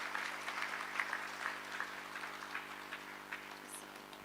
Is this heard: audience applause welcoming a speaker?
yes